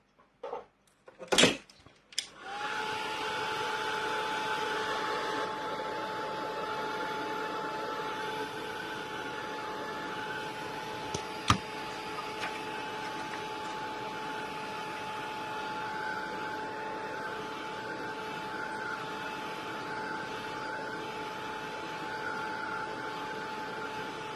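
A hair dryer blows steadily on tape over a surface, a constant broadband whoosh with a faint hum running for over twenty seconds after a few short knocks at the start, with no talking.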